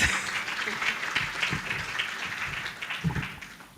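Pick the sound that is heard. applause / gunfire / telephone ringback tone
applause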